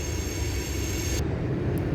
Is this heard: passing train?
yes